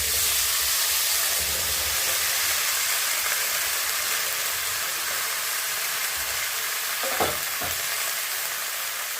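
Spring onions sizzling in hot oil with nigella seeds, a steady loud frying hiss with bubbling crackle throughout and a couple of brief stirring clinks near the end, no talking.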